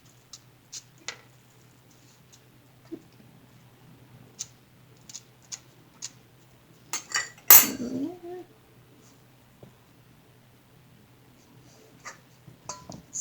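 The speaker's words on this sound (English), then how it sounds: "you're going to take a fork and just press down on them lightly." A fork presses lightly onto soft, fragile unbaked cookie dough on a baking pan, giving sparse, quiet metallic clicks and taps with one brief louder clatter midway, in a quiet room.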